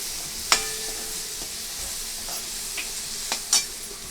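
Chopped tomatoes stirred into a pan of fried spinach give a steady soft sizzle with a few sharp clicks of a spoon against the pan, moderately close and with no talking.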